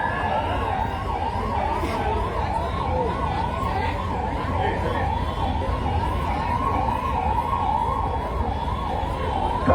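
An ambulance siren wails steadily, rising and falling in a smooth, continuous cycle, loud and close under a dense background of crowd noise at a political speech rally.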